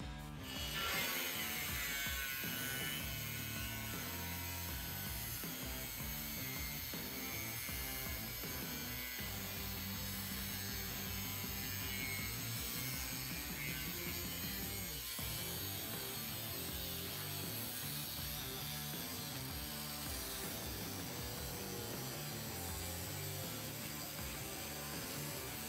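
A Snap-on nibbler cuts through a car body panel with a dense, continuous rapid chattering grind that runs loud and steady throughout, with a persistent high whine and no talking.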